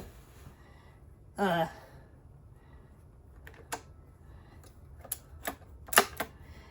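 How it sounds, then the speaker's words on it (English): Keys pressed on a heavy 8-pound, 11-key Braille writer: a single firm mechanical clunk near the start, then several sharp, separate clacks spaced irregularly over quiet room tone, close to the listener. "8-pound Braille writer."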